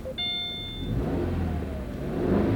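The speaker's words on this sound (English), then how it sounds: "It's got that Subaru noise, the sound that the Boxer engines make." A Subaru boxer engine starts by keyless push-button and settles into a low, steady idle with a brief electronic chime at the start, heard close by.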